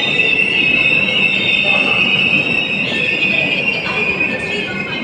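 A train stands at or rolls slowly through Dindigul station, giving a steady, loud high metallic wheel squeal over a rumbling wash of station noise, heard continuously up close.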